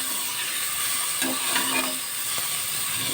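Chopped tomatoes frying with onions in a pan for kuska, an empty biryani, a steady close sizzle with soft scraping stir strokes, alone without talk.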